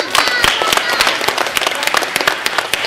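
Audience applause after a poem is recited at a school's annual gathering, with brisk scattered claps rising and falling fairly close by.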